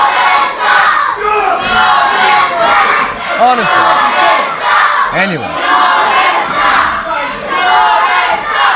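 Loud wrestling crowd at a Wrestle Force heavyweight championship show in Witham, shouting, jeering and cheering in sustained waves, with a couple of brief spoken words over the din.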